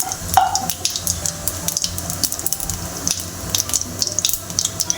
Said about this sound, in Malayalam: ജീരകം ഒന്ന് പതച്ചിങ്ങനെ ഇളക്കി കൊടുക്കുക.